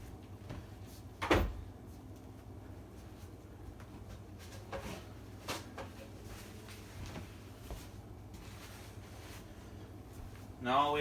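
Cabinet drawers open and close, a sharp wooden knock near the start, then quieter sliding thumps and rattles across a quiet room, ending with a brief burst of speech.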